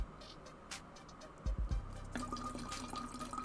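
Water running from a tap into a bottle during a refill, a soft low gurgle with a few brief splashes midway, then a steady faint fill continuing at close range with no talk.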